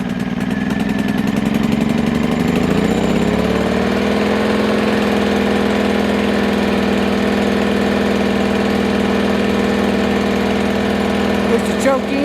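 A WEN 2000 inverter generator's small engine running steadily nearby, its hum rising in pitch during the first few seconds as it settles, then holding an even, continuous drone with no talk over it.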